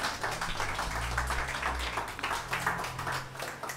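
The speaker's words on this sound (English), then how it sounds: "Round of applause." Audience applause at a talk on animal vision, a steady wash of clapping from a crowd that fills the hall evenly for the whole stretch, with a low hum underneath.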